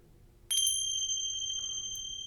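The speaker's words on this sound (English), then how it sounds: "I'll bring us back with some bells or a chime, something like this." A bright bell or chime is struck once to close a sound bath, ringing with clear sustained tones that slowly fade in a quiet room.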